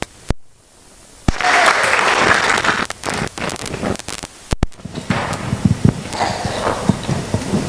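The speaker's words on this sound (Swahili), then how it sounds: "Piga makofi kwa Yesu." A church congregation claps for Jesus in a burst of loud, dense applause that comes and goes in waves, with sharp handling knocks and wind-like rumble on the microphone.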